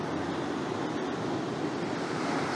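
Surf at Ocean Beach, San Francisco, a steady broadband wash of breaking waves with constant rumble, mixed with wind buffeting the microphone, no voices.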